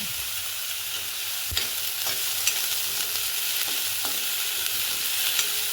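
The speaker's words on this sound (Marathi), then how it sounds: "बस आता ह्या स्टेजला आपल्याला शिमला मिरची यात टाकून घेऊया।" Onion and capsicum sautéing in a pan produce a continuous bright sizzle with occasional soft taps and scrapes from stirring, close and steady throughout.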